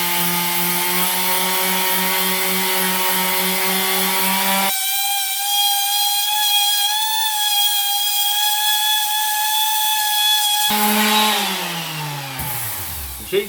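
Abrasive sanding disc on a power tool grinding rust off a cast iron saw table, a loud sustained whining drone that shifts pitch as the load changes and winds down at the end.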